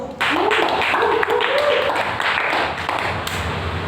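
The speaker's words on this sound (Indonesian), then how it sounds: "Beri tepuk tangan untuk kelompok 1." Students in a classroom clap for a discussion group, a short burst of scattered hand claps mixed with chatter and a rising voice, fairly close and loud.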